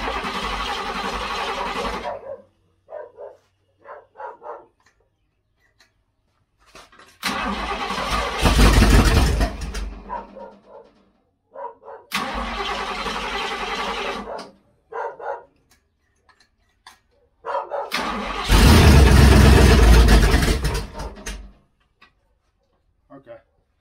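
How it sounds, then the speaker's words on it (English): A Ford Fairlane trike's engine is cranked and fires in several loud bursts, each running a few seconds and separated by pauses. A dog barks and people talk in between. "maybe I can hook the battery up real quick and fire it up"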